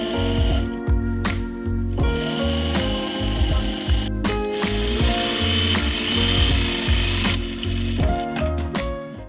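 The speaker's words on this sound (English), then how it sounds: "my industrial does a really good job with its stitching, so I'm just gonna stitch it from the underside" An industrial sewing machine stitches a patchwork coat from the underside, giving a loud, steady mechanical hum with rapid repetitive clatter that runs continuously, pausing briefly a few times.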